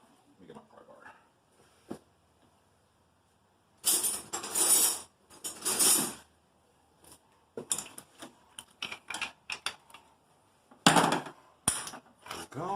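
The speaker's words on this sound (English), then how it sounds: "let me get my pry bar." A pry bar levers against engine parts during a D16Y8 cam install in a Honda D17A2. Irregular metallic scrapes, clunks and ratcheting bursts start and stop, and there are quiet stretches between them, close up in a garage with a little muttering.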